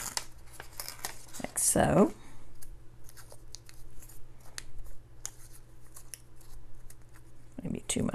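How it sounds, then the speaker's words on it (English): Paper torn by hand into a small half circle for a layered craft project, with crisp ripping sounds and a louder tear near the start, under soft nearby speech. "I'll tear out, I should say, a little half circle."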